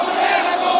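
A large crowd of party activists chants slogans at an election rally on a circuit house field in Mymensingh, a loud sustained roar of many voices.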